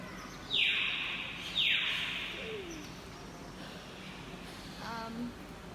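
Two loud descending whistled rainforest bird calls ring out early, then softer chirps and warbles follow over a steady hiss of forest ambience.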